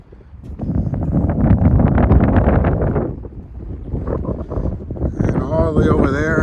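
Gusty wind buffets the microphone in a loud, rumbling roar on a coastal walk near Tavira, Portugal, with a person talking partway through.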